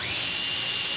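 A drill runs in a makerspace workshop, giving a steady, loud high-pitched whine with a hissing edge, continuous and close for about a second.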